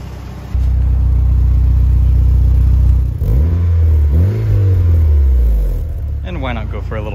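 A Mitsubishi Lancer Evo 4 engine idles loudly, then revs up in several rising and falling sweeps before settling back, heard close and strong with no talking.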